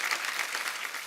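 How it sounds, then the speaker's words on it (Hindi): Studio audience applause on The Kapil Sharma Show, a brief burst of dense, continuous clapping from a large crowd, fairly soft and even. "एक बार वहीदा जी, आशा जी और हेलन जी के लिए जोरदार तालियां हो जाएं।"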